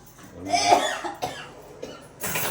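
A person coughs repeatedly, three or four harsh, close coughs with brief pauses between them.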